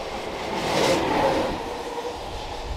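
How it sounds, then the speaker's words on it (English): A train pulls into a station platform, a rumbling, hissing roar of wheels and carriages that swells and then eases back, heard nearby with no talk. "The train is coming into the platform, so I apologise if it gets a bit loud."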